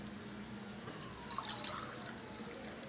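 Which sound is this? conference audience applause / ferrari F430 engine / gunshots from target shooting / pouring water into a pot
pouring water into a pot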